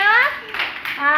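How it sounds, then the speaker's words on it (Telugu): A few children clap in a classroom play setting, a short light patter of hands heard between children's voices talking at the start and end. "కొట్టండి వరుణ్ వాళ్ళకి కొట్టండి క్లాప్స్"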